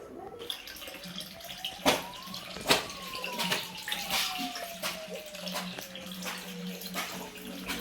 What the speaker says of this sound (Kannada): ಎಲ್ಲ ನೀರು ತುಂಬಿಸ್ತಾ ಇದ್ದಾರೆ ಇವಾಗ.